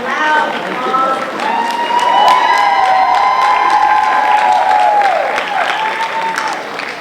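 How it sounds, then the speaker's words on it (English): A large crowd at a university school of education hooding ceremony bursts into loud, sustained applause with cheering and whoops, filling the hall for several seconds. "Round of loud applause."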